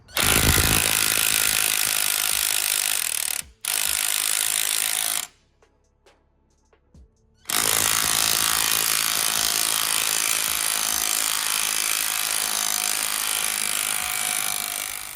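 A lower crankshaft pulley comes off an engine with loud, sustained impact-tool rattling that runs in long bursts, broken by a brief pause and a quieter stretch of faint clicks.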